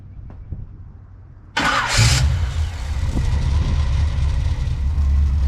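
A car engine, just rewired, cranks and catches after a quiet stretch, then settles into a loud, steady idle that runs continuously to the end.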